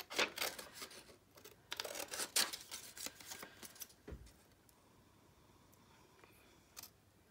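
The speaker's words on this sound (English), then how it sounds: "These are not the best fussy cutting scissors I have." Small fussy-cutting scissors snip through paper ephemera in a quiet room, a run of close, crisp snips and rustles followed by softer, sparser handling sounds.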